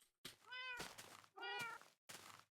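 Cats meowing in the Minecraft video game, three distinct meows in quick succession, clear and close with no talk over them.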